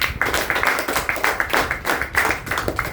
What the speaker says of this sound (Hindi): सबके लिए एक ताली चाहूँगी